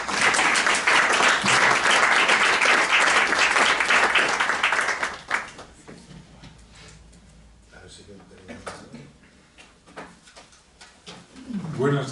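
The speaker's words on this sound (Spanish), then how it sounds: "Un fuerte aplauso" An audience at a book presentation bursts into loud, dense applause to welcome the author, which stops abruptly about halfway through and leaves quiet room noise with small shuffles and knocks.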